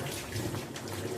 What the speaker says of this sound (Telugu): ఇలా ఉడుకుతూ ఉంటుంది.